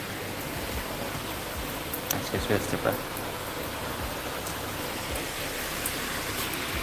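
Rainwater gushes steadily from a drain pipe during Cyclone Remal, a continuous broadband wash of flowing water with a few brief louder splashes, while a voice speaks briefly over it.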